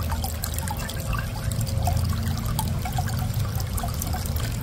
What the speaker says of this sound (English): Open your container of water and add your disinfectant to the container.